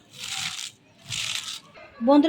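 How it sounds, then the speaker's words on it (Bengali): Salted cabbage is squeezed and crushed by hand in two broad, wet rustling bursts, each lasting about half a second, followed by a brief rise in voice-like tonal sound at the end. "এবার এখানে আমি সামান্য একটু লবণ দিয়ে পাতাকপিটা একটু চটকে নিব হাতের সাহায্যে"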